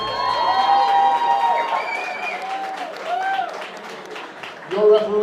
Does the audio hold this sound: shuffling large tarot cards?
no